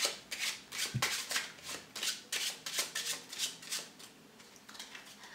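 A deck of playing cards is shuffled up close in a quick series of crisp riffling bursts, each a short papery flutter, repeating rhythmically for several seconds.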